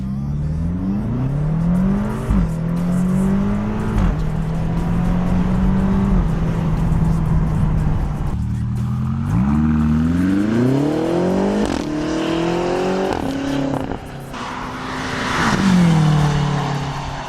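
A 2016 BMW X5M with a 423 kW engine drives on a closed road, its loud, close engine note rising and falling through repeated revs and gear changes without talk.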